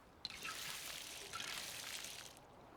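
Crops being watered in the survival game Icarus: a faint pouring splash of water that starts with a small tap, then trickles on for about two seconds before fading out.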